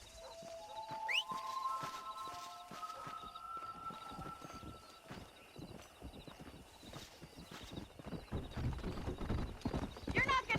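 Horse hooves clip-clop at a steady walking pace in the Red Dead Redemption western game, joined by a brief whinny and distant birdsong, with a voice speaking over the rhythm.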